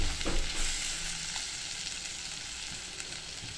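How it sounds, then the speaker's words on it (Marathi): Onion and cashew paste sautés in a hot pan for kaju paneer masala, giving a loud, steady, close sizzle with faint stirring beneath it. "आता आपण ही जी कांद्याची पेस्ट होती, कांदा आणि काजूची, ती पेस्ट घालतोय. आता ती पण आपल्याला अशी परतून घ्यायची चांगली."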